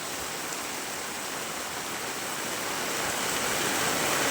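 Heavy rain pours down in a steady, dense hiss that grows slightly louder toward the end, with no voices over it.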